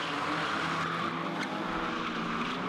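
Two drift cars, a gray Nissan 240 and a red BMW, in tandem at a drift competition. Engines roar loudly and continuously, with tire squeal layered over them, the whole pass steady and close with no talk.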